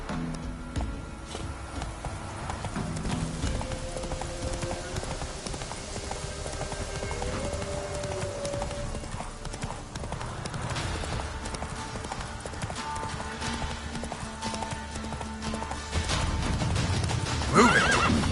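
A horse in The Witcher 3 game trots with a continuous clip-clop of hooves, shifting pace, with whinnies and snorts breaking through near the end.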